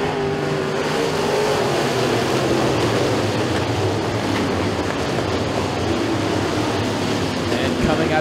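Pro stock race cars roaring around Stateline Speedway at the green flag, a dense, loud, continuous engine drone with a crowd-like wash and a voice faintly audible underneath.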